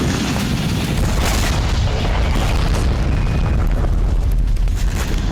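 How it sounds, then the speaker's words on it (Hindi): Loud, continuous rumbling blast roar from a strike on Crimea, a dense low boom with sustained crackling debris noise throughout, no voices. "यूक्रेन के बारूदी ताप ने एक बार फिर क्रीमिया को दहला दिया।"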